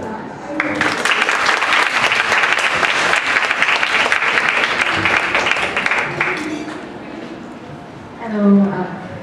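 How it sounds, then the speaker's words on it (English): A seminar audience at a nursing informatics event claps loudly for about six seconds. The applause then tapers off and a single voice begins speaking. "Let us give her a warm applause."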